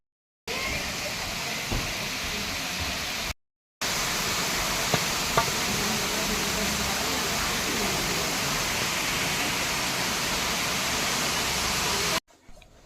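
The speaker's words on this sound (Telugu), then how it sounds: "జలపాతం నీళ్ళు పారే సౌండ్ ఎలా వస్తుందో చెప్తున్నా కదా" Waterfall water at Ahobilam pours in a steady broadband roar, close and constant, broken by two short gaps of silence with a few faint clicks.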